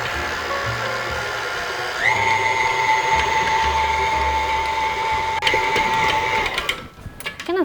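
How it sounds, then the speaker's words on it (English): A stand mixer with a dough hook kneading French bread dough runs at a steady motor whine, loud and close, with a steady mechanical hum throughout before it slows near the end. "my dough hook. And we'll turn it on."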